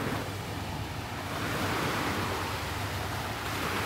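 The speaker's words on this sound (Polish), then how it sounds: "Posłuchajmy szum wody." Calm sea water washing steadily against the shore at Gdynia Redłowo on a sunny day, a continuous broadband surf wash with some wind rumble, moderately loud and without speech.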